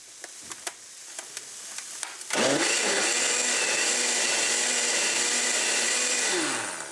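Seasoned food with generous pinches of salt is mixed by a machine that starts abruptly and keeps up a loud, steady whirring buzz for about five seconds, close up, after a few quiet clicks.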